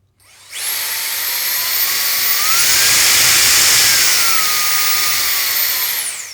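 A handheld mini blower fan, a battery-powered blower-vacuum, whirs up from silence and holds a loud, steady high-pitched whine, with the pitch rising and dipping as the speed is turned up and down before it shuts off.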